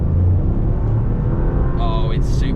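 Toyota GR Yaris engine droning steadily from inside the car in second gear, a loud low rumble that rises in pitch toward the end as it pulls harder.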